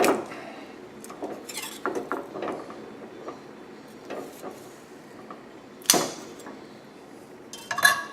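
A cooked pork loin chop in salsa being cut in a pan, with scattered metallic clinks and scrapes of utensils against the pan and a few sharper knocks, fairly close with quiet gaps between.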